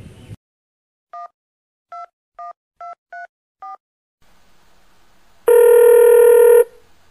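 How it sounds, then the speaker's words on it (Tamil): A telephone keypad is dialed with seven short, evenly spaced tone beeps, followed after a brief pause by one loud, sustained electronic ring, with no voices. "போன் அடிப்போம்."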